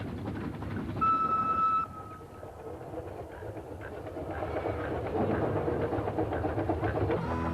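A restored old commuter train runs on a railway line in the Flinders Ranges near Quorn, with a brief whistle-like tone early and then a steady rumble and clatter that grows slightly louder.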